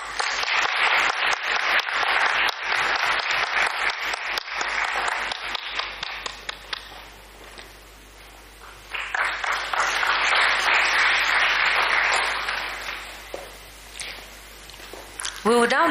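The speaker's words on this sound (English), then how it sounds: "Please, just clap." An audience at a cancer conference in Kisumu County claps in long bursts of dense applause, fading into a brief lull before swelling again, with a voice speaking over parts of it.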